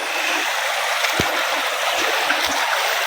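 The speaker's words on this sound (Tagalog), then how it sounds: "Ganda po ng sapa oh." Steady rushing flow of a creek in Batangas over large rocks, a continuous close wash of water with a few faint knocks, no talking.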